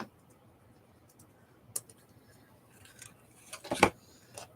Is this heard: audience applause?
no